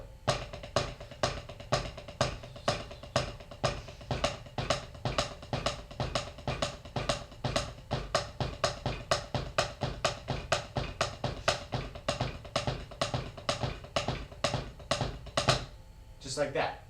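Drum accent patterns in 4/4 played back to back with the rests removed, a fast, even stream of sharp strokes with regular louder accents, close and clear, ending in a brief scuffle.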